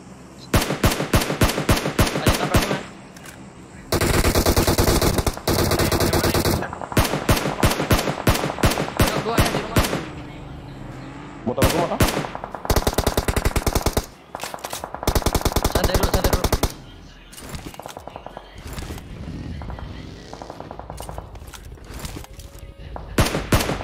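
Automatic weapon fire in PUBG Mobile rattles in rapid bursts, loud and close, with several long sustained sprays separated by short pauses and brief quieter gaps, players talking faintly in between.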